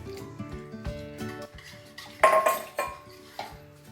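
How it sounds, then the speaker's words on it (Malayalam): Fruit salad with coconut milk stirred in a bowl: a handful of close clinks and scrapes of a spoon against the dish, with one brighter ringing knock midway. "നന്നായിട്ടൊന്ന് ഇളക്കി കൊടുക്കാം."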